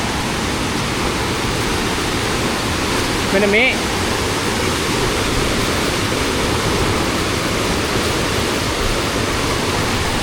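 Water rushing through a channel at Golumale in Walapane, a dense, loud, continuous roar of flowing water, with a brief spoken phrase near the middle.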